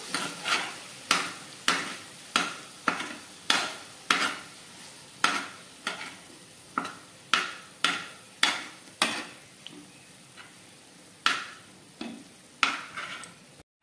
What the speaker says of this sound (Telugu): ఒక 10 మినిట్స్ కొంచెం గోల్డెన్ ఫ్రై అయ్యే వరకు ఫ్రై చేసుకోవాలి.